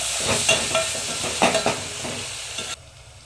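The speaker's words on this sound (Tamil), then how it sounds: "தக்காளி போட்டு நல்லா வதக்கியாச்சுங்க." Chopped tomatoes sauté and sizzle in a pan for vegetable biryani, with bursts of stirring scrapes over a steady frying hiss that cuts off near the end.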